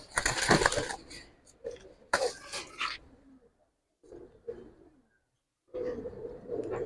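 Large pigeons, including silver Giribaz, coo in several close, soft throaty bursts separated by short quiet gaps.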